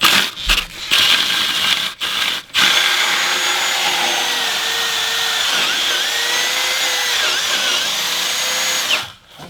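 A cordless drill whirs loudly and continuously for several seconds while drilling during a new-construction furnace install, starting with a few brief stop-start bursts before cutting off at the end.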